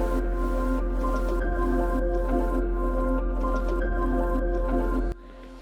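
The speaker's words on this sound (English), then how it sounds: "So we're going to flush the tank." Water rushing through an RV sewer hose as the black water tank is flushed, a loud steady gurgling flow with tonal hum that cuts off abruptly near the end.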